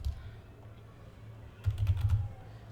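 A short burst of quick keystrokes on a computer keyboard as a command is typed into a RHEL 7 or CentOS system, close and crisp against a quiet background hum.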